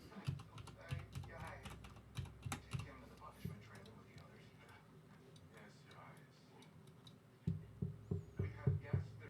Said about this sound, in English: I will type on the keyboard without me talking